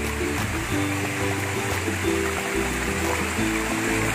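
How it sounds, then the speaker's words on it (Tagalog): Water rushing over the top of a waterfall, a steady, loud, continuous roar with a low rumble underneath and no voices. "ito yung tuktok ng talon."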